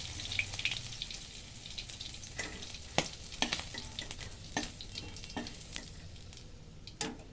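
Shrimp fry in a pan with bay leaves, a steady crackling sizzle broken by sharp pops and the scrape and clatter of stirring, close and moderately loud with no talk.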